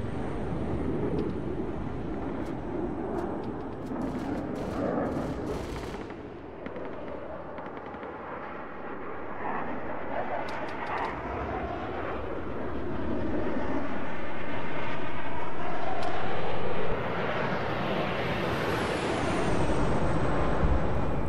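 A jet in ARMA 3 firing its cannon and air-to-ground missiles, with rapid bursts of gunfire and booming launches over a loud roaring engine that swells toward the end.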